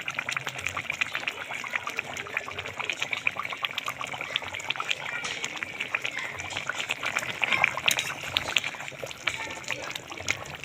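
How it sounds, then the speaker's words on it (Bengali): Raw mustard oil goes into a simmering Bengali-style tilapia fish curry with vegetables, giving a steady close liquid trickling and bubbling hiss, while someone talks faintly. "একটু কাঁচা সরষের তেল দিয়ে দিব।"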